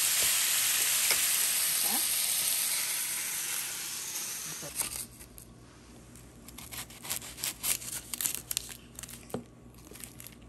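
Sausage frying in a hot pan, a steady loud sizzle that fades after a few seconds into scattered crackles and pops as the pan comes off the heat.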